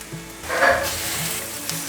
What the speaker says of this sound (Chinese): 快速的翻炒，大约略炒一下